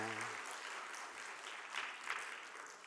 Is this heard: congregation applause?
yes